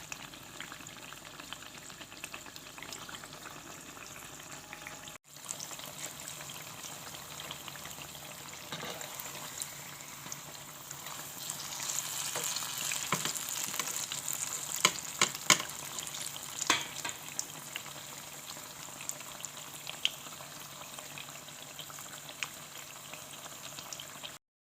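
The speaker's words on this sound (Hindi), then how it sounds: "फ्राई होने पर साइड पलट दें।" Potato pakoras deep frying in hot oil make a steady bubbling sizzle that runs through the whole stretch and grows busier midway, with occasional sharper pops and crackles.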